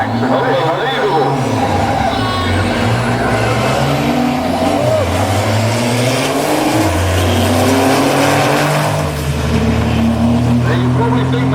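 Diesel drag racing truck engine driven flat out at a truck drag race, a loud continuous roar with shifting tones and rising pitch sweeps, heard close with a voice talking over it.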